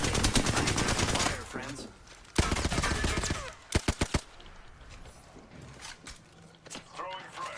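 Rapid bursts of automatic gunfire in a shooter video game, loud and dense at first, then a short sharp volley of separate shots, with a voice speaking over the action.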